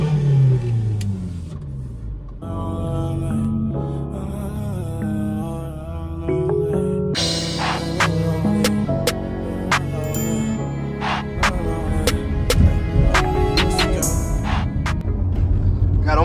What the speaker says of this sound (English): All my exhaust, the sound, the way it sounds.